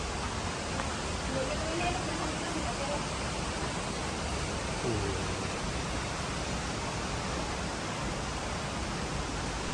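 Curug Telu, a multi-tiered waterfall in Kendal, roars with a constant broadband rush of falling water, loud and unbroken across the whole stretch, with faint voices barely surfacing beneath it.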